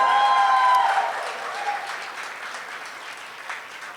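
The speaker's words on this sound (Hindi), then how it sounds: "जोरदार तालियां लेडीज एंड जेंटलमैन।" An audience at the Dwarka Prasad Agarwal Award ceremony, Jaipur Literature Festival 2022, breaks into loud applause that opens over a held musical tone, then gradually fades to lighter, steady clapping.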